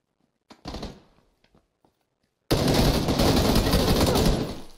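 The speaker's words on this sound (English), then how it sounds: "Oh, I'm getting shot by a different team now." Heavy gunfire in a multiplayer shooter game: a few scattered shots and thuds at first, then a sudden loud, sustained burst of rapid fire that carries on to the end.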